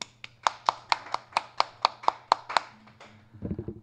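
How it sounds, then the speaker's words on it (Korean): A quick, even run of about a dozen sharp hand claps, close and crisp, ending with a short burst of different noise. "웍스를 향해 박수."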